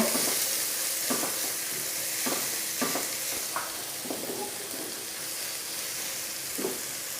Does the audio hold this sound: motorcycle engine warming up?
no